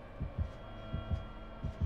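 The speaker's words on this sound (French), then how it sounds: "J'ai le battement de cœur là." A heartbeat warning in a horror game thumps in a steady double-beat rhythm, three pairs of low, muffled pulses over a constant droning hum, with no talk.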